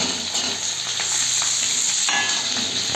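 Chopped mixed vegetables for a vegetarian labra hit hot oil in a pan, producing a dense, even sizzle with faint stirring scrapes and no voices.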